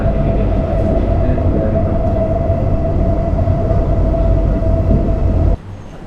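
A metro subway train runs through Singapore with a loud, steady rumble and a constant tonal hum from inside the carriage, cutting off abruptly to a quiet hush near the end.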